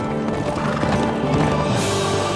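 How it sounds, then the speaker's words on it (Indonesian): A horse passing by in the video game Kingdom Come Deliverance 2, with dense hoof clatter inside a loud, busy game soundscape that fills the moment without letup. "oh, ada anjing dan kuda lewat guys."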